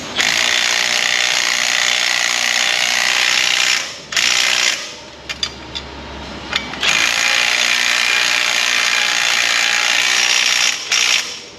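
A ratchet wrench tightens suspension nuts on a Ford F250 truck, loud rapid clicking cranking in long sustained runs, broken by a short pause and a few isolated clicks before the ratcheting resumes.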